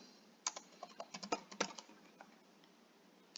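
Quiet, close typing on a computer keyboard, a quick irregular run of light key clicks for about two seconds that then trails off into a few sparse taps.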